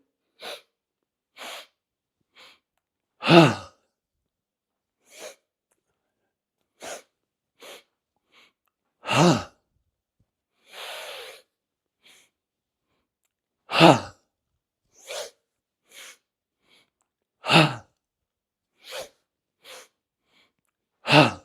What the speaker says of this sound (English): So it's breathe in, breathe in, breathe in,